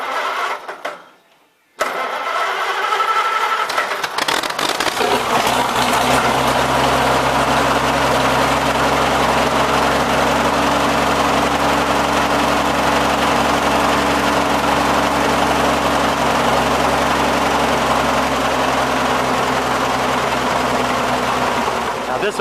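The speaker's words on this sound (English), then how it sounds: "So I'm gonna let her sit there and hammer away a little bit" An Oliver 77 tractor engine idles after a cold start, loud and close, with a steady rough throb that holds without letup once it catches after a brief silence.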